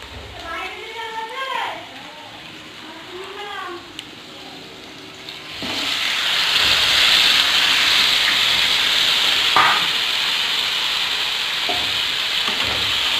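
Chicken and potatoes sauté in a wok at home, loud steady sizzling that starts abruptly and fills the second half, with scraping stir strokes; speech and children's voices are heard before it.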